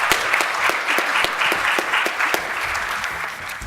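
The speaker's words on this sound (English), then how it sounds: "let's give a round of applause for our world-class schools panel" Audience at a charter school event applauds a panel, a dense, steady wash of many hands clapping with sharp individual claps standing out, loud and continuous throughout.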